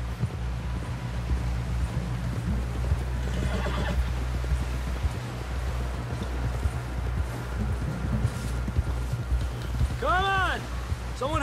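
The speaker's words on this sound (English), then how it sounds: "Someone help John down off this horse." In the video game Red Dead Redemption 2, a horse whinnies loudly near the end over steady hoofbeats and a low droning rumble, with faint muffled voices in the background.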